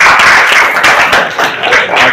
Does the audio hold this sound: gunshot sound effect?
no